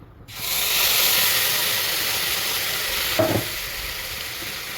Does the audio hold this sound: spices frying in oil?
yes